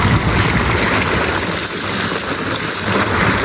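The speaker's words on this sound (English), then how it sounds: "this is a little falls which we found by the way" A small natural waterfall pours steadily outdoors, a loud, continuous broadband rush of falling water close by with no speech over it.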